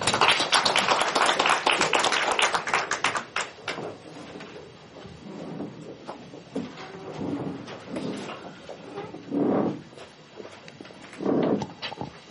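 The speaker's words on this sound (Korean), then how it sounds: "의장님 박수로 맞이해주시기 바랍니다" At a progressive party's national committee meeting, an audience applauds to welcome the chair with dense, loud clapping for about three seconds. The clapping then thins into scattered rustles and knocks.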